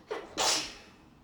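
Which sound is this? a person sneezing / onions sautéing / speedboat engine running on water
a person sneezing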